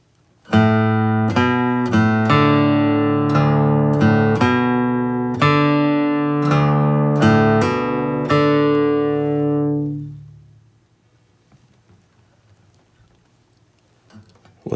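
Flatpicked acoustic guitar playing the opening two measures of the fiddle tune Angeline the Baker, a steady run of clear picked notes ringing out alone, then fading to near silence.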